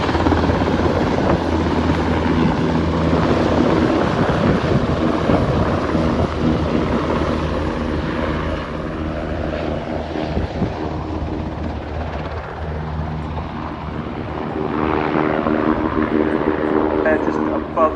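A military helicopter at the RIAT air show at RAF Fairford, a German army machine from Fassberg, gives a loud, steady rotor and engine roar throughout, with voices talking over it.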